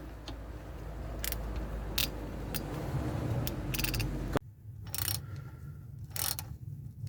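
Hex key working a brake caliper slider pin during a front brake overhaul, a series of small metallic clicks and scraping ratchet-like ticks, close and fairly quiet, with a duller background before a sudden quieter stretch.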